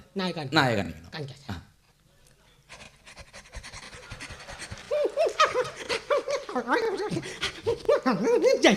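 A performer on a Malayalam comedy stage imitates a dog panting, giving quick rhythmic breathy pants near the mic, followed by laughter and other voices talking over the end.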